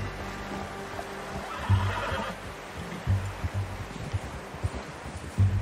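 A horse in the game Red Dead Redemption 2 lets out a loud whinny, followed by scattered low thuds of hooves and rustling in an outdoor scene.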